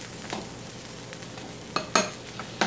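Pork chops sizzling in a skillet with onions and garlic, a soft steady sizzle broken by a few sharp clanks of utensil against the pan near the end, close and without speech.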